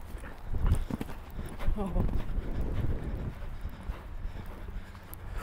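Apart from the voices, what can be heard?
horse hooves during show jumping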